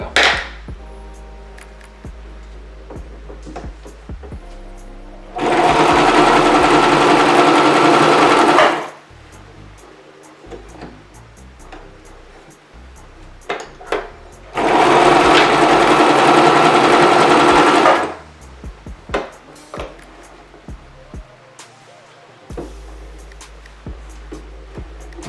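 A sewing machine stitches a lace closure wig in two sustained bursts of a few seconds each, loud and steady, separated by quieter handling clicks and taps.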